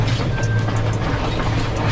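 A train on the Colombo to Ella line in Sri Lanka rolls through trees, giving a steady, continuous low rumble with a constant engine hum and no talking.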